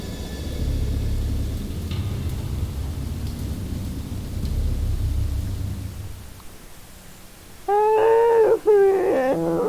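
Deep, rolling thunder rumbles for several seconds, then quiets, and a few short horn-like tones sound near the end.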